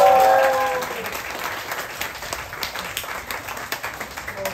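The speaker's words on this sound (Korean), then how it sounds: "박수." A crowd applauds loudly at first, then the clapping thins out into scattered, uneven claps.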